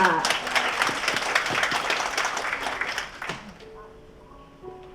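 Wedding guests at an engagement ceremony in a hotel ballroom break into loud applause that fades over a few seconds, leaving a quieter room with a faint voice and light background tones.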